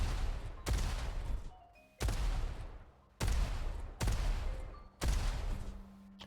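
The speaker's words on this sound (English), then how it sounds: "Oh, lots of rockets. Oh, that's unfortunate. Yeah, this is a crazy rocket spam map." Rocket explosions in the arena shooter Diabotical, five heavy booming blasts roughly a second apart, each loud and close with a long decaying tail, some small pickup-like tones between them.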